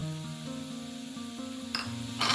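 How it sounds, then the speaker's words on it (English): Curry leaves and coriander leaves sizzle in a hot pan for a spicy duck roast, a soft continuous frying hiss that swells near the end, under quiet background music. "Next I am going to add the curry leaves. And a little bit of cilantro leaves or coriander leaves."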